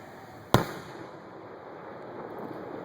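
During an outdoor fireworks finale, a single loud firework bang cracks out, then fades into a low, hissing rumble of distant crackle.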